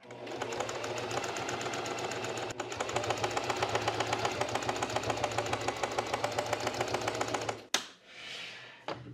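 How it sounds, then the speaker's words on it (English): A domestic sewing machine runs steadily, stitching bias binding around the side of a garment by the collar, its fast even needle rattle continuing for about seven seconds before stopping, followed by a brief rustle of fabric. "And then we can just continue sewing the bias binding around the side."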